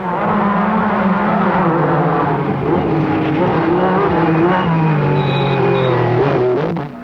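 A 1974 Lancia Stratos mid-engine rally coupe on the RAC Rally in Britain, its engine droning steadily and loudly with pitch shifts as it drives, close by and alone for about seven seconds before cutting off.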